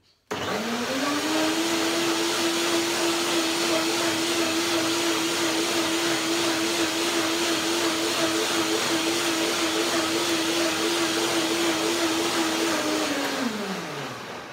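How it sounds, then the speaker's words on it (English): A blender whirs loudly and steadily for about thirteen seconds, processing soaked macadamia nut cream, its motor spinning up at the start and winding down near the end, with no voices. "So one more blending will make it perfectly creamy."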